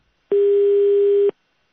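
A single steady telephone line tone sounds on a call to a harbour office, holding for about one second, loud and clean, with no voices.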